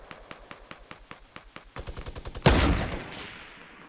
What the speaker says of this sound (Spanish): He fallado el disparo más tonto de mi vida.